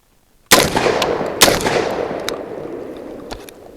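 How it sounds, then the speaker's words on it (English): Genesis Arms Gen 12 PDS short-barreled 12 gauge shotgun firing high-velocity steel shot into dirt: two sharp, loud blasts about a second apart, each followed by a long rolling echo, with a faint third pop near the end. "Always be cautious when shooting steel shot, as it tends to bounce around."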